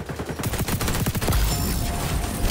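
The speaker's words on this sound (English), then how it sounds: "That fire is actually so good on the MP7" Rapid automatic MP7 fire in the shooter XDefiant, a dense string of close, crisp shots rattling off in quick bursts for the whole clip.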